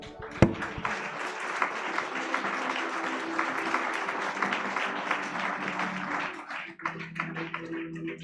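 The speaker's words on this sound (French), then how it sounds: "Acclame bien pour la parole." A church congregation breaks into sustained applause, many hands clapping together in a dense, even wash that holds for several seconds before thinning out, with a few voices faintly mixed in.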